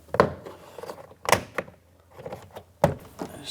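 A trim tool pries a rear interior door panel off a 2004-2009 Toyota Prius, and the plastic clips pop loose in three sharp separated snaps with quieter rattling between.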